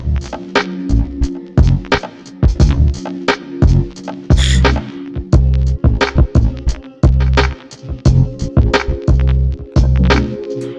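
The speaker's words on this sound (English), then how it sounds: "That gives it that real pure crunch, that 12-bit, 8-bit crunch" A loud, gritty sampled drum beat from an MPC Live with punchy kicks and crunchy snares in a steady rhythm, its tone lo-fi and 12-bit filtered, playing alone.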